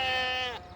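A single sheep bleats from a pen on a Farming Simulator 17 farm, one close, wavering call under a second that fades quickly.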